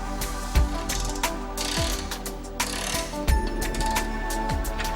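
Ratchet wrench loosening axle bolts on a car with frontal body damage during panel repair, a series of loud mechanical clicks and clanks over a steady low hum, no talking.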